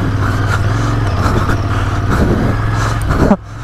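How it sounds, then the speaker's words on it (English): Royal Enfield Interceptor 650 motorcycle ridden on a dirt trail in Gurgaon, a loud, close, steady engine rumble with low throbbing that drops off sharply near the end. "Okay, I'll ride the heavy ass Interceptor now."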